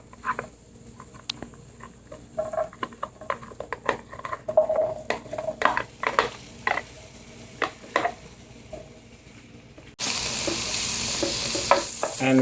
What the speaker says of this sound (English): very quickly stir frying these vegetables in the oil